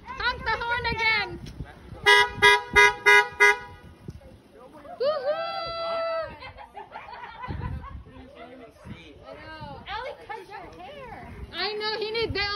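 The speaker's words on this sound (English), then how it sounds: "Honk the horn again." A car horn honks in a quick run of about five short toots near the start, loud against street chatter, with people talking and laughing throughout.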